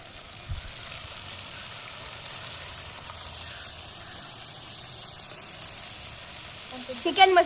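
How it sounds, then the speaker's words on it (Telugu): Chicken pieces frying in a pan for a home-style chicken curry give a steady, faint sizzle, with a short burst of stirring clatter near the end. "చికెన్ బాగా వేగింది"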